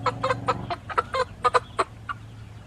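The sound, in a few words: chickens clucking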